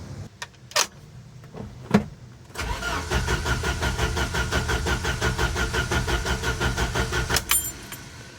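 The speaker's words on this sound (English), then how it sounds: "crank no start." A 1988 Jeep Wrangler with a crank-no-start fault from an ECU failure: a few clicks and clunks come first, then the starter cranks the engine in a steady rhythmic churn for about five seconds without it catching, ending abruptly.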